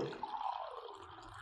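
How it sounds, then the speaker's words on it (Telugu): Lukewarm water pours briefly into a glass holding peppercorns and garlic cloves, a short, quiet, liquid trickle. "వేసి గోరువెచ్చని నీళ్ళు"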